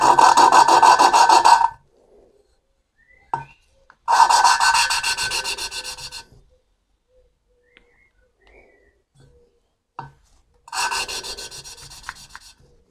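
Engine valves being lapped by hand with grinding paste make three long, loud, gritty rasping bursts of rubbing, separated by quiet pauses with faint clicks.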